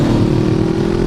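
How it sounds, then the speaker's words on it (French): A 2016 Honda CBR 500 R sport motorcycle's engine runs loud and close with rapid exhaust pops and crackles in a continuous burst, with no talking. "Oh, comment ça pétarade, j'adore."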